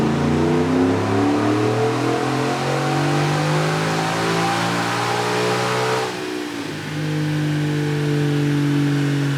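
A 2021 Ford F-150 engine revs loud and close during a full pull, its steady droning tone climbing, dipping briefly partway through, then surging again, with no talking.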